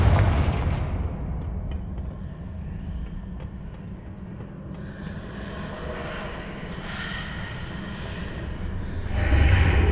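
A Confringo explosion spell in the video game Hogwarts Legacy: a sharp blast at the start rolling into a long, low rumbling decay, with a second swell of rumble near the end, no talking.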